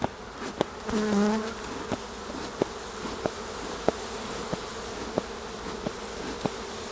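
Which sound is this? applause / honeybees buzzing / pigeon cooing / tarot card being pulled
honeybees buzzing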